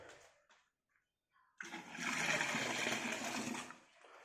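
Water pouring to top up home brew beer, a brief quiet trickle, a pause, then a steady rushing gush for about two seconds that tapers off, fairly faint.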